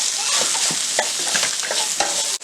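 Ginger garlic paste with salt and turmeric is stirred in a frying pan for egg pulusu: a steady sizzle with repeated scraping strokes of the spoon, close and fairly loud throughout, with no talking.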